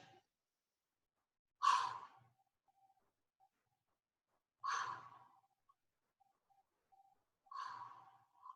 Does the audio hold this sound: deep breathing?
yes